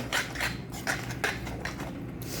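A spoon scrapes and knocks around a pan of hot mango pickle in oil with asafoetida powder, giving a steady run of close, fairly loud metallic scrapes and taps with no talking.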